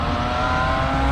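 BMW E21 M5 heading out, a steady close engine drone with a faint rising whir and no clear pass-by peak, heard alone throughout.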